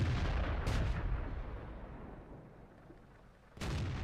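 Bursts of gunfire in an online multiplayer shooter game: a loud blast at the start, then a quieter rumbling tail and a second sharp shot near the end, with no talking.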